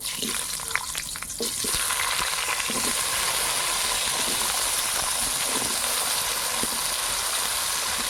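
Dried chillies and cut potatoes hit hot oil with panch phoron for a Bengali puin mitul ghyat, a loud, steady sizzle swelling after a few scraping stirs and continuing unbroken to the end.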